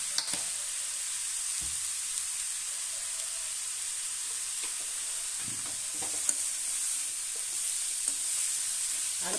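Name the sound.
radish being sautéed and stirred in oil in a pan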